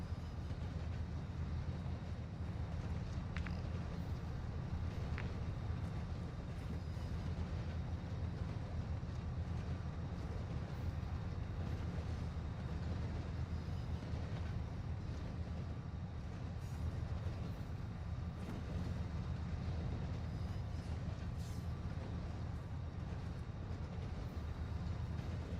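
A moving train in the Call of Duty DMZ video game gives a steady, continuous low rumble and rattle that lasts throughout, with no talking.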